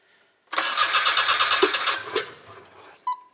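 A Daihatsu Midget small truck engine cranks and catches, then runs loud and rough for a couple of seconds before a brief final burst.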